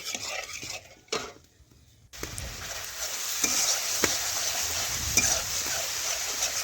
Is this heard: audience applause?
no